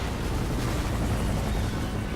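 A steady barrage of booming explosions and crackling bursts from Resident Evil 6 game action, loud and unbroken throughout, with deep rumble underneath.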